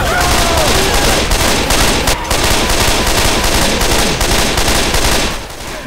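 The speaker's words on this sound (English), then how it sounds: "Everyone shoot the shit! Shoot the shit out of that thing!" Dense, continuous machine-gun fire in a video game, several weapons shooting at a tank, loud and close with rapid overlapping bursts for nearly six seconds before easing slightly at the end.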